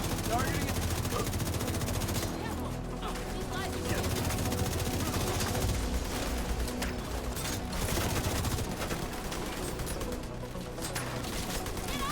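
Gunfire in the video game The Division 2, dense rapid bursts of automatic fire that run almost without pause and are loud and close, with a voice talking over them at times.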